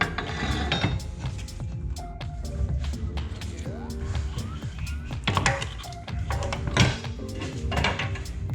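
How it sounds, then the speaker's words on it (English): Ratcheting tool mechanism works on a BMW E90 sedan's suspension while the control arm is lowered during a lowering-spring install, giving a near, continuous run of metallic clicks, clinks and mechanical rattles. "Now we'll go ahead and lower the control arm down."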